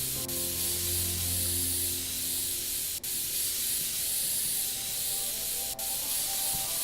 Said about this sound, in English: Just keep spraying it down.